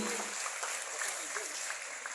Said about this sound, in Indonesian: Tepuk tangan buat Kak Billy